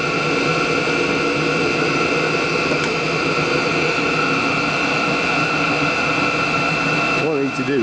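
A Chinese diesel heater burning HV46 hydraulic oil roars continuously at maximum setting, a loud steady whirring blower and combustion drone with a slight pitch wobble near the end.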